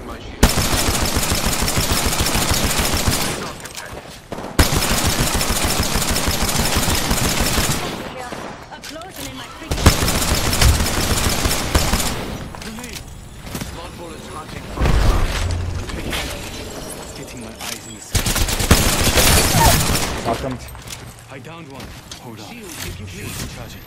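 Rapid automatic gunfire in Apex Legends comes in several long loud bursts separated by short pauses, with impacts and booms mixed in and a voice talking at times.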